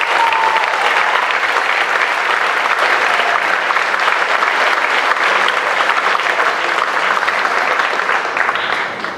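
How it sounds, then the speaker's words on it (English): Loud, sustained applause fills a school senior awards night, many hands clapping in a dense, even roar that holds steady and tapers slightly at the end. "please hold your applause until I get through each of them"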